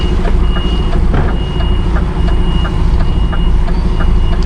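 Reversing beeps from a DAF XF articulated truck, a steady run of evenly spaced electronic pips sounding close over the low rumble of the idling diesel engine.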